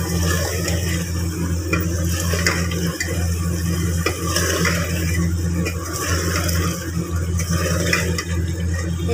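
Meat (gosht) being stirred and fried in a pot for a desi cabbage-and-meat dish, a steady sizzle with a low hum and intermittent scraping of a spoon, no talk.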